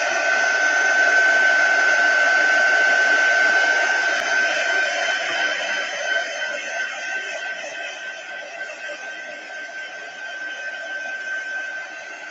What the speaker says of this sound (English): I'm going to put the heat tool on this so you'll more than likely hear it